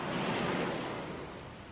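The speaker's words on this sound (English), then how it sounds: "the ocean waves were breaking on the shore" Ocean waves break on a beach shore, a continuous broad roar of surf that slowly eases off, heard alone with no voices.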